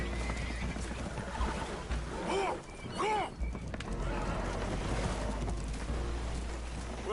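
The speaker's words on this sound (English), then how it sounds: "Horses are spooked" Spooked horses in Red Dead Redemption 2 neigh aboard a damaged boat that is taking on water. Two shrill whinnies rise near the middle over a dense, noisy wash of background sound.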